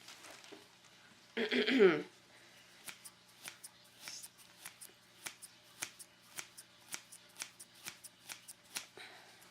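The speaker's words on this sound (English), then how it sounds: "I'm cutting up this part here, and this is how I usually see people cut the foam" Scissors snip through foam for a fursuit head base in a quiet room, a brief loud rustle early on, then a regular series of crisp cuts roughly every half second.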